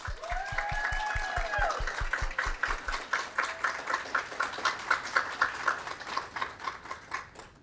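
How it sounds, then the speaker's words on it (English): An audience claps for students being inducted into a communication honor society, a sustained round of applause. A low rhythmic thumping runs under it for the first few seconds and the clapping continues steadily after it stops. "Let's give them a round of applause."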